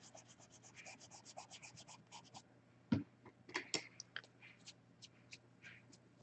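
A black gel pen writes on paper in a quiet room, producing faint, close scratchy strokes in quick rhythmic bursts with a couple of sharper taps.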